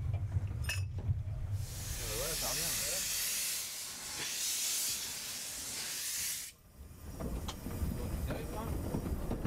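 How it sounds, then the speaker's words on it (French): Loud steam hiss blasts from a nearby locomotive on the Tarn tourist railway for several seconds, then cuts off, leaving rumbling, clanking train movement with faint voices. "embarquons à bord du train pour un aller-retour classique"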